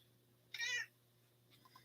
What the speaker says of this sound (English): You're okay, Gray Kitty. She's not too excited about this.